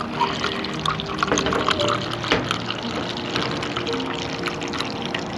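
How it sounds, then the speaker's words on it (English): Nitro beer pours from a tap fitted in a custom 1987 Toyota Sunrader camper: a close, steady hissing, splashing stream with small clinks and gurgles throughout. "You got a nitro beer tap."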